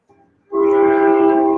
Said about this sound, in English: I have a train coming by.